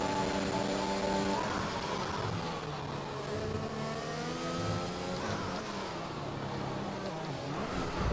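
A race car engine in a racing video game holds a steady mid-pitched drone, climbing in rising revving sweeps as it gets back up to speed, loud and continuous throughout.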